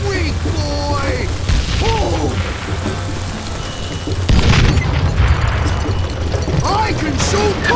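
Dynamite explodes in the western shooter Call of Juarez: Gunslinger, a sudden loud boom with a broad rumbling blast partway through, over steady game ambience and in-game character voices.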